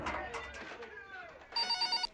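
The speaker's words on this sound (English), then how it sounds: "suddenly the phone rang again" A telephone rings with a short, rapid electronic trill near the end, heard briefly and fairly clearly after a stretch of muffled talk.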